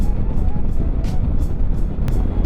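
A Honda Africa Twin motorcycle ridden off-road near Al Ain, Dubai, its engine and wind noise a loud, constant roar throughout with no letup.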